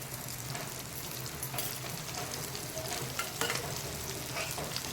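Potato slices fry in oil in a pan, Goan style, with a steady close sizzle and bubbling hiss, plus scattered small pops and crackles throughout.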